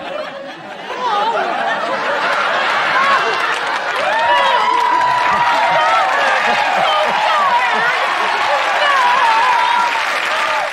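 Sitcom studio audience from Married With Children applauding and laughing, a loud, steady wash of clapping and cheers that swells after the first second and holds through to the end, with scattered whoops rising above it.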